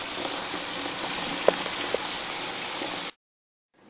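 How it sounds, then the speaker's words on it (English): Onion sautes in a pan, a dense even hiss like light rain, close and steady with a couple of small clicks, cutting off abruptly into near silence near the end. "we'll take it over to our pan with the onion sauteing"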